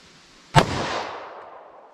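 A single sharp gunshot from a short-barreled .45 ACP pistol fired into ballistic gel, loud and close, followed by a decaying outdoor echo with no other sounds.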